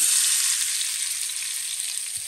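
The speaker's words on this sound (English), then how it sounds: "Now what we're going to do, we're going to go in with our onions" Onions with red and green peppers sizzling loudly in a hot pan, a dense continuous hiss close up that eases slightly over the short stretch, no talking.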